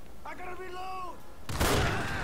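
A shotgun fires in GTA 5 with a single loud, close blast and short rumbling tail, preceded by a voice speaking briefly.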